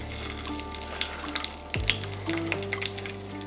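Four or five garlic cloves sizzle in melted butter in a pan, a close, crackling fry over a low kitchen hum, with small pops scattered throughout.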